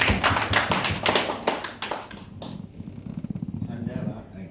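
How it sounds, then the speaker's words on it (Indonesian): Pupils in a classroom give a short burst of quick, sharp hand claps that fades after a couple of seconds, followed by quieter chatter and scattered taps. "Tepuk tangan."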